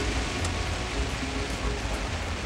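Heavy rain and hail pound down in the precipitation core of a supercell during a storm chase, a dense, steady roaring hiss that stays loud and unbroken throughout.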